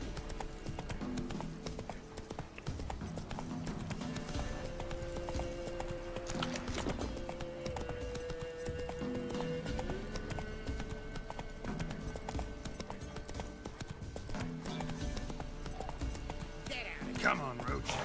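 The horse Roach gallops in the video game The Witcher 3, its rhythmic clip-clopping hooves running steadily under game sounds and voices talking.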